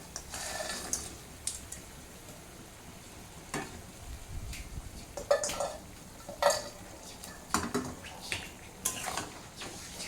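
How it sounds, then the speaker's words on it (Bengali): Meat pieces for homestyle chilli chicken go into a pot of boiling water, with scattered clinks of pots and utensils and a few splashy bursts, fairly quiet and sparse. "এখন আমি মাংসগুলো দিয়ে নেব।"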